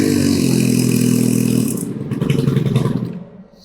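A Stihl FS131R four-stroke weed eater runs loud and close, holding a steady buzzing drone before dropping to a rougher, pulsing lower idle and fading near the end, with no talking.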